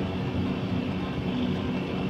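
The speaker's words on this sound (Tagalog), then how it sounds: "na iba na yung tunog ng ating compressor" An air conditioner compressor runs steadily during a pumpdown, a continuous low mechanical hum and drone that stays even throughout, close and moderately loud with no talk over it.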